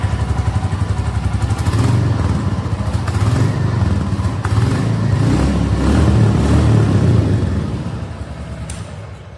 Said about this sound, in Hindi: और अब सुन लेते हैं अपन इस गाड़ी का एग्जॉस्ट साउंड।